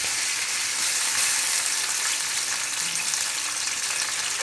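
Onions sizzling in hot oil in a kadhai, a steady, dense frying hiss that holds evenly throughout with no talk over it.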